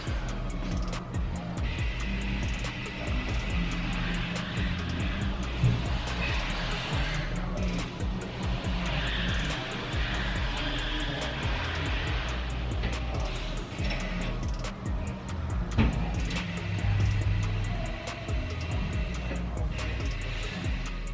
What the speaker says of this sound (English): Using the bead depressor and top roller while rotating the tire completes the wheel mount.